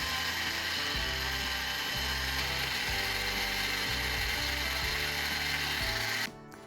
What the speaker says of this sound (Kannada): ಒಂದು ಸೀಬೆ ಹಣ್ಣನ್ನು ಕಟ್ ಮಾಡಿ ಅದರ ಒಳಗಿಡೋ ತಿಲ್ಲನ್ನೆಲ್ಲ ಮಿಕ್ಸಿಗೆ ಹಾಕಿ ಜೊತೆಗೆ ಅರ್ಧ ಹಣ್ಣನ್ನು ಹಾಕಿ ನುಣ್ಣಗೆ ಗ್ರೈಂಡ್ ಮಾಡ್ಕೋಬೇಕಾಗತ್ತೆ